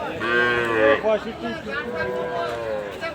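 A cow moos loudly and close by at a cattle market, a long drawn-out call, with people's voices and a murmuring crowd around it.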